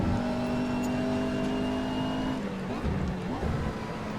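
A McLaren MP4 GT3 race car engine in Assetto Corsa hums at steady revs, then drops and rises as gears shift, a loud continuous synthetic engine tone with someone talking over it.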